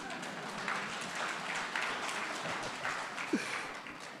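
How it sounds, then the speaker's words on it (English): Faint, steady clapping from an audience at an annual general members meeting, honoring the chairperson, heard at a distance as a soft continuous patter. "Can we just clap again for the chairperson?"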